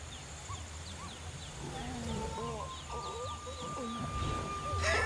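Rising and falling hooting monkey calls in the video game Ancestors: The Humankind Odyssey overlap in a jungle soundscape with chirping birds, a steady tone and faint background noise.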